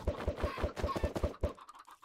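Minecraft chickens cluck in a quick run of about eight evenly spaced short clucks, fairly loud and close, then trail off into a softer, fading chatter.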